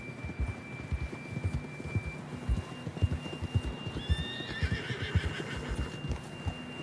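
In a video game, a horse neighs loudly in a drawn-out whinny while hooves clip-clop in a steady rhythm beneath it, set against a faint background hum.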